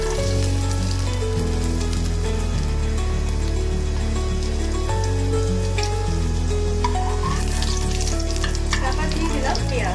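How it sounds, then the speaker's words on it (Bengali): Garlic tempering crackles in hot oil in a kadai, a steady broadband sizzle running beneath louder background music for the whole stretch. "তেলটা গরম হয়ে গেছে, এর মধ্যে আমি দিলাম রসুন ফোড়ন।"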